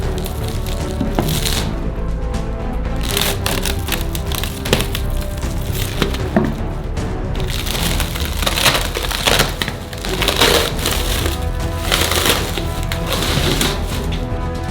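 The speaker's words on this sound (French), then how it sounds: "On n'a plus besoin des parois en bois, alors on les enlève." Wooden walls pried off a large chocolate mold, producing continuous cracking, splintering and crushing wood noises with scattered sharp snaps, loud and close.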